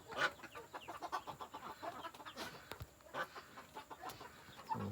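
A group of mixed-breed ducklings peep constantly in a dense, high chirping chorus, with some calls louder and closer than others.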